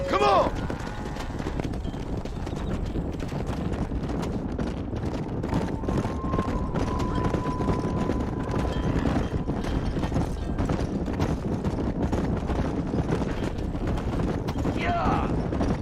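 Horses galloping in the video game Red Dead Redemption, a continuous rapid clip-clop of hooves at close range across the whole stretch, with wind noise and brief shouted voices near the start and end.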